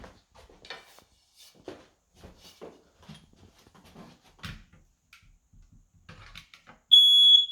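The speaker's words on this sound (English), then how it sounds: "I'm actually going to test the fire alarm" Soft thumps and small handling noises lead up to a loud, piercing electronic alarm tone that suddenly blares at the very end.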